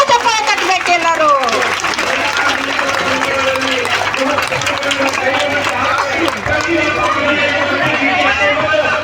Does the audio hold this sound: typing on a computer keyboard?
no